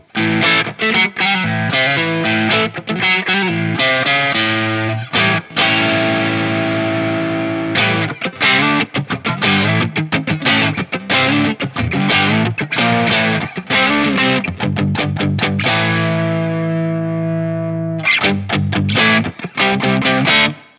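An electric guitar through a Sonicake Blue Skreamer overdrive pedal with the tone boosted plays loud, fuzzy chords and riffs with thick sustain and noisy distortion, brief pauses between phrases.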